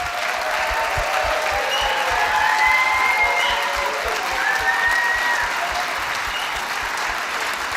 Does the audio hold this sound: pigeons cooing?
no